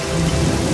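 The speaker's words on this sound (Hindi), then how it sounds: "ओहो, आखिरकार बारिश आ गई। बारिश आ गई।" Steady rain falling throughout, a dense continuous hiss of drops with no pauses, fairly loud and close with a soft low rumble underneath.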